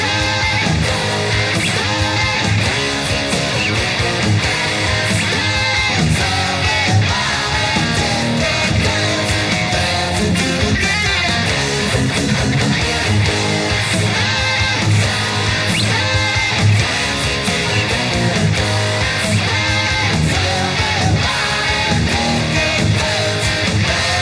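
Dense, loud full-band rock with electric guitar drives through the second chorus, steady and continuous with no talking over it.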